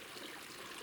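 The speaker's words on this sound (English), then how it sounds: "it actually has running water" A mountain creek runs at about 10,000 feet in the Colorado backcountry, giving a faint, steady trickling and rushing wash with no other sounds.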